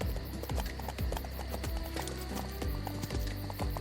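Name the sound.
horses galloping hooves in a video game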